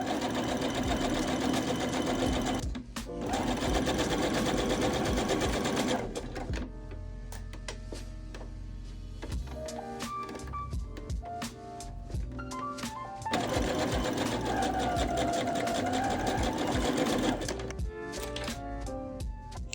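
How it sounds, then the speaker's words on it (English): A sewing machine runs a straight stitch along the back of a long-sleeve top, making close rapid mechanical chattering in bursts of a few seconds. Short pauses between bursts are broken by clicks and fabric handling. "Now let's take it to the machine and sew."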